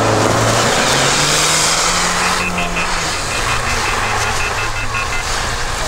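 An off-road 4x4 fitted with tyre chains climbs a hill in a king-of-the-hill contest, its engine droning loudly and steadily throughout with a rising, straining note, under a broad rumbling wash of noise.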